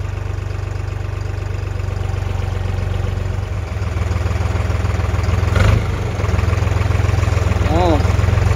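Tractor engine running steadily while plowing a field, a continuous low droning rumble that stays loud and close throughout, with a brief louder swell midway.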